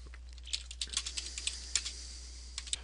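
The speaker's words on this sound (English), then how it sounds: "So typing a simple description" Steady typing on a computer keyboard while entering a short description into engineering document-management software, a quick run of soft, close key clicks with no voices.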